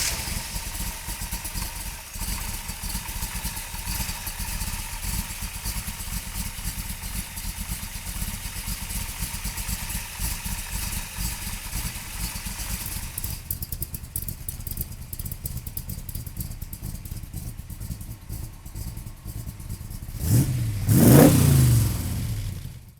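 A Superformance Shelby Cobra replica with a 302 V8 engine runs with a steady, loud mid-pitched engine sound for about twenty seconds, then gives a sharp rising rev near the end.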